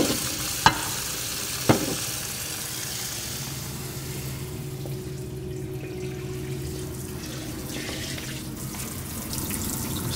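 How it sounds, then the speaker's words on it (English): Steady rush of running water from a kitchen faucet while dishes are washed at the sink, with two sharp clinks of dishware early on and soft splashing throughout, no voices. "Something about watching you do the dishes is..."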